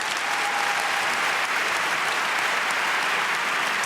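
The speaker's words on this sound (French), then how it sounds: "Je pense que ça vaut des applaudissements quand même." Dense, continuous audience applause fills a large hall at the Victoires de la musique 2011 awards show on France 2, a loud, even wash of clapping with no talk over it.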